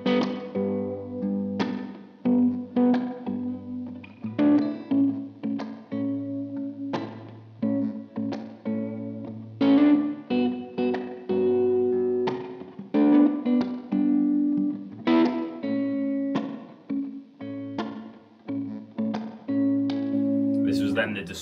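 Gibson Custom '64 ES-335 electric guitar in Brunswick Red on the bridge pickup, played through a Kemper Profiler distortion tone: crunchy chords and riffs struck in repeated bursts, sustaining and ringing between attacks.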